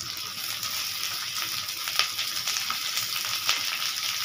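Onion frying in a pan for mix chowmein, a loud continuous sizzle with occasional sharper pops and crackles throughout.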